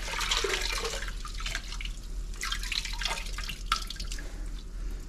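A damp grout sponge is rinsed and squeezed in water after a pass over a tile backsplash, giving continuous close splashing, dripping and trickling with no talk.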